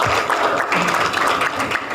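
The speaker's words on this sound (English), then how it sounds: "Let's clap for her, please" An audience at a conference session on strategic litigation and enforcement claps steadily in a brief, full burst, with a voice faintly audible through it.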